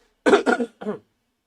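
Three quick coughs close to the mic, two in rapid succession followed by a third after a short pause, then silence.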